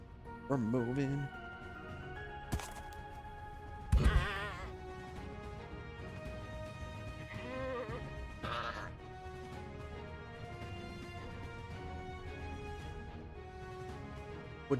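Goats bleat in a Middle-earth survival video game, with a wavering bleat at the start and more around four and eight seconds, all over a steady layered game soundscape with someone talking throughout.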